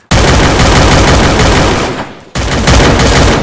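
Loud, close MP5 submachine gun fire in Free Fire: a long rapid automatic burst that tails off, a short gap, then another sustained burst.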